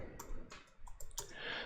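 Someone types a command on a computer keyboard while setting up a Cisco 2800 router home lab, heard as a short run of faint, close key clicks.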